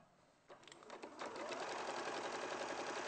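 Quilting sewing machine stitching fabric, starting with a few slow stitches then speeding into a steady fast whirring run, close and fairly quiet.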